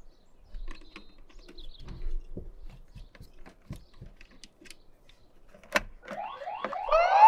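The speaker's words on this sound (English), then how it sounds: "I have forgotten to turn off the force dismantlement alarm on there" Scattered clicks and taps of handling an Aqara Smart Video Doorbell G4 come first, then its tamper alarm starts wailing near the end, its pitch rising as it grows louder.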